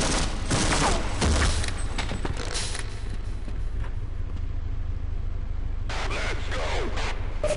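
A one-shot-kill weapon fires in the video game Half-Life, with a loud blast near the start, dense noisy activity around it, then another burst near the end, over steady background game noise.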